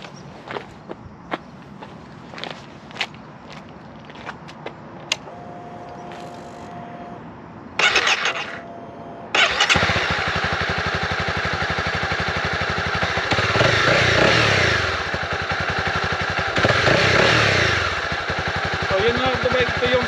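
A Honda CB300R motorcycle with its stock exhaust: light footsteps and handling noises, a brief starter whir, then the engine fires and settles into a loud, steady idle with a couple of throttle blips and rising revs.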